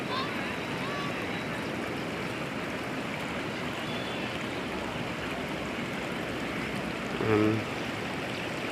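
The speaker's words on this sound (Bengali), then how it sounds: "পাহাড়ি ঝর্ণা।" A mountain waterfall and stream in hill forest country near the Mahananda river rush with a steady, dense wash of water noise that stays even and close throughout, with no clear voices over it.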